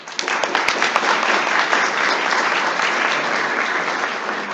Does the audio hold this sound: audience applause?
yes